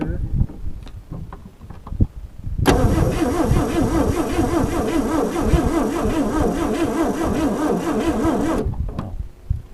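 A 1956 Chevy Bel Air, fed gas and ether after sitting 48 years, catches and runs roughly with a steady, loping engine roar for several seconds, then cuts out; handling noises and bumps come before it fires.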